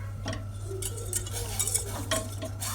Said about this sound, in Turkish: Yavaşça karıştıralım.